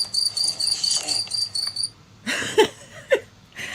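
Close, loud chirping from a single cricket in quick rhythmic bursts, stopping partway through as brief knocks and handling noises take over.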